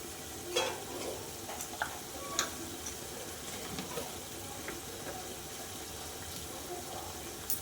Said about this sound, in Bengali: মশলাটা আমি এবার ভালো করে কষিয়ে নেব